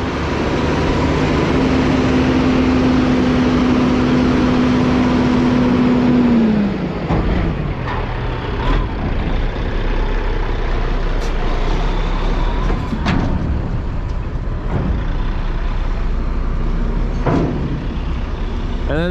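A straight-piped dump truck runs at a corn harvest with a loud, continuous, rough engine roar. A sustained tone fades early on, and sharp clanks and knocks follow throughout.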